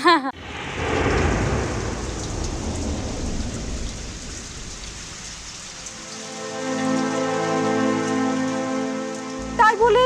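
Heavy storm rain pours down steadily with a rumble of thunder near the start, while voices are heard briefly at the beginning and end.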